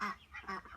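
Young ducks on a homestead give a few quick nasal quacks in a short burst, faint and close together, with no other sound around them.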